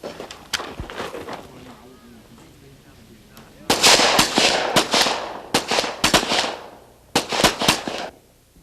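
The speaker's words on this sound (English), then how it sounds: "will shoot 3 shots on each of 2 different targets in a total time of 15 seconds" Pistol shots at a shooting match, fired from the 50-yard line with a draw and prone position: a quiet stretch, then sharp cracks in irregular clusters of two and three, each with a short ringing tail.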